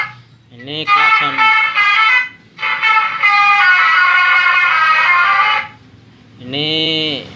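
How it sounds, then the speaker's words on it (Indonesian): Ceremonial melody from an electronic Toa telolet horn sounds loud and near in two sustained bursts of bright stacked tones, followed by a shorter, wavering honk at the end. "Ini telolet seremonial yang pertama kali saya perkenalkan."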